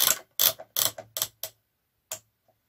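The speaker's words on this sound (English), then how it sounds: "Knitting 1 row." A Brother KR230 knitting machine carriage knitting a row, heard as a quick series of close, loud clacking mechanical clicks, five in fast succession and then a pause before one more click and a faint tick.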